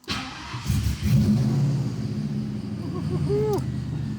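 A Cobra car rolls off a dyno under its own power, its engine a loud, steady low rumble close by with a slight rise as it pulls away.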